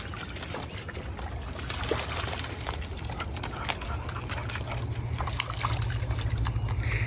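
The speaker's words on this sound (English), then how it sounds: "Here is some footage of my dogs playing in the water." Dogs play in water, making continuous splashing and sloshing with scattered sharper splashes over a steady low rumble, no voices.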